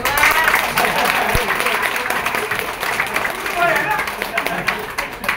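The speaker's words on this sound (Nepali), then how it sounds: "우리 지사장님에게도 감사의 박수 보내주시기 바랍니다" Applause from an audience thanking a branch manager at a store opening ceremony, dense and steady throughout, mixed with crowd noise and voices talking over it.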